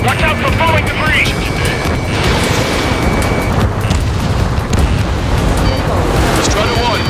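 Loud, dense rumbling destruction from an Ace Combat 7 air-combat mission as an upper platform section is blown apart and debris falls, a continuous roar with jet engine noise and scattered booms, radio voice chatter layered over it.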